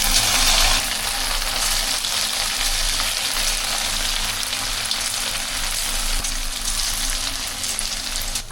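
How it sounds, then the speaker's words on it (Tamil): Marinated chicken frying in hot oil, a loud, dense, steady sizzle and crackle that carries on without pause. "ஸோ இப்போ எண்ணெய் நல்லா சூடாயிடுச்சு. இப்போ நம்ம சிக்கனை போட்டு சேர்த்துடலாம்."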